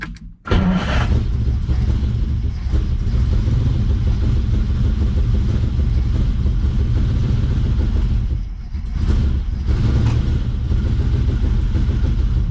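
A Ferrari 330 with carburetors cranks and fires, then runs as a loud, steady engine rumble that dips briefly midway before settling back, close by with no talk over it.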